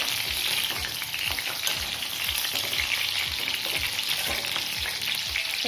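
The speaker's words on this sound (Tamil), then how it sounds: "கத்திரிக்காய் இது மாதிரி நல்லா வதக்கணுங்க" Eggplant sautéing in a pan of oil: a continuous loud sizzle with regular spatula strokes scraping through it, close and uninterrupted, with no voices.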